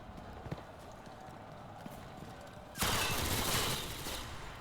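Stalingrad Thompson submachine gun fired in Enlisted, a World War II shooter with Soviet forces: a sudden loud burst of automatic fire breaks out partway through, following quieter ambient clatter.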